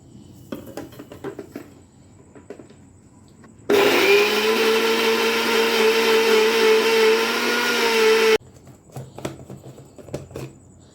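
A kitchen blender purees mango with sugar in one loud, steady whirring burst of about five seconds, starting and stopping abruptly, with faint handling clatter before and after.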